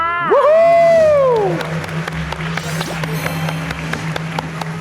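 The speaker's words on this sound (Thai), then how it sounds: "ขอเสียงปรบมือดังๆ" Studio audience applause on a Thai television dating show, a steady crackling clatter of many hands that runs for several seconds after a brief sweeping vocal cry at the start.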